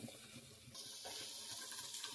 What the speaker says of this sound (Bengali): এবারে জল দিয়ে দেবো পরিমাণ মতো, অল্প করে, যাতে ডালটা একটু সেদ্ধটা হয়।